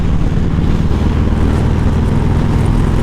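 A Harley-Davidson Sport Glide cruising in sixth gear, its deep, steady engine rumble and drone loud and close, blended with constant wind rush and no pauses.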